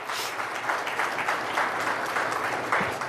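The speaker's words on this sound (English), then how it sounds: "Can we have a warm round of applause, please?" An audience at a public interaction event applauds to welcome India's External Affairs Minister S. Jaishankar, giving moderately loud, continuous clapping from a crowd that holds steady throughout, with no voices over it.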